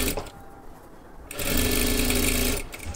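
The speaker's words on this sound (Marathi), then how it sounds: "हे पहा मी पूर्ण शिलाई मारून घेतली" A sewing machine stitches tucks into a blouse in short rapid bursts, a quieter pause, then a longer steady run of whirring stitches, close and alone.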